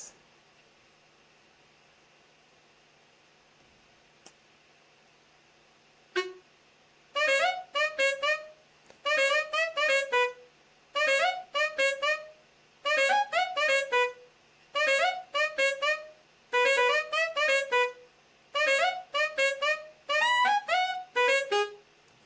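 Chorus section of a techno track, with bright synth chords in repeating call-and-response two-bar phrases, entering after a few seconds of near silence and then pulsing steadily and loudly to the end.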